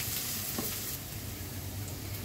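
Beef momo stuffing with a pinch of garam masala is stirred in a hot pan, giving a soft, even sizzle and faint scraping throughout, fairly quiet and with no talking.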